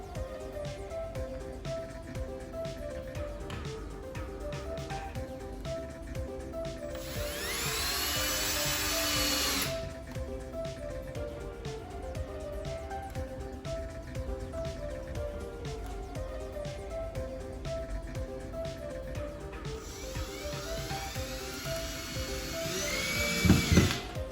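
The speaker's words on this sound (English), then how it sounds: "take 2 of the 4 screws you've got and screw them into holes to hang your shelf on" A power drill drives screws into holes in the wall to hang a shelf. Two bursts of high, whining drilling stand out over a steady background whir, each several seconds long and heard close up.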